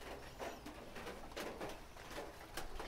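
Domestic pigeons coo softly in a loft with young birds nearby, a few low murmuring calls repeating over a steady background hum.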